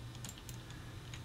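Computer keyboard with a single key pressed and held, the Alt key, giving a few faint, quick clicks against a steady low hum, no talking.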